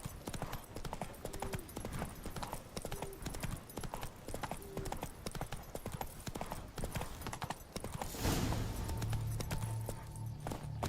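Roach the horse gallops in The Witcher 3, hooves clip-clopping in a fast, steady, close rhythm that continues throughout, shifting to a louder rush of movement near the end.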